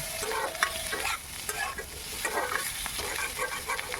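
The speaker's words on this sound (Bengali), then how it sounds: "দিয়ে আমি ভালো করে বাদামি আলুটাকে ভেজে নেব।" Potatoes fry with salt and turmeric in a pan, sizzling oil under repeated scraping and stirring strokes of a spatula, close and busy with no talk.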